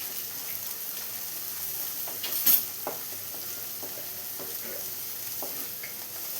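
A Kerala beef curry mixture with turmeric sizzles softly in a pan while being stirred, a steady low frying hiss with scattered light scrapes and one brief louder clatter near the middle, no talking.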